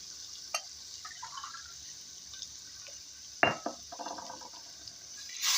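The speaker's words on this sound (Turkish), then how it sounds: "üzerine çay bardağıyla bir buçuk çay bardağı da su ilave edeceğim" Water poured from a tea glass into a pan of cooking spinach splashes briefly, with a few clinks of glass and drips around a louder sizzling gush midway, over a steady background hiss.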